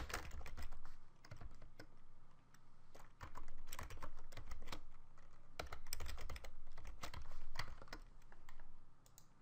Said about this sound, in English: I'm going to type in code to execute on user sign